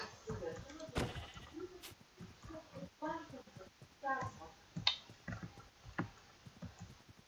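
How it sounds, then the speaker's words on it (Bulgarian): Several short bleats from a video game sheep, repeated at irregular intervals over soft clicks and light background sounds, fairly close. "Тук има овца."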